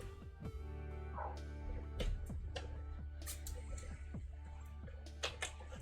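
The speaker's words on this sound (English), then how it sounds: "Off he goes barking again." A dog barks repeatedly somewhere in the background, the short yips and woofs faint and scattered over a low steady hum.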